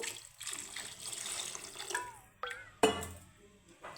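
Water pours into a fish curry of tengra fish with tomato and potato, a close gurgling splash that swells and fades, followed by a couple of sharp clanks.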